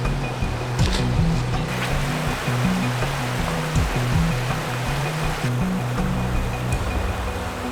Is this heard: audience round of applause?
no